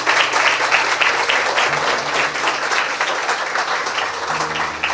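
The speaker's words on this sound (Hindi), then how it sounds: "आइए यीशु के लिए जोरदार ताली बजाएंगे।" A church congregation claps loudly and continuously, with many hands producing a dense, even burst of applause that lasts several seconds.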